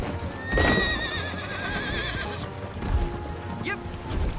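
A horse in a video game whinnies loudly with a wavering neigh while hooves clop along steadily underneath, a second shorter whinny near the end.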